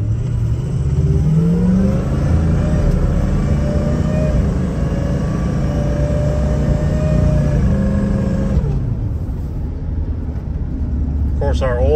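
An early Ford 6.0 diesel truck drives, its engine droning loud and steady with a slowly rising whine. The engine noise drops away abruptly near the end.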